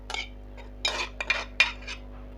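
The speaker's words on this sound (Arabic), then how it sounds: "وكل ده هقلبه بقى في بعض لغايه ما اخليه كله الطماطم شربت كل ده" A spoon stirs a tomato sauce mixture with cumin, salt and pepper in a pot, giving a few scattered metallic clinks and scrapes against the pot in short, irregular bursts.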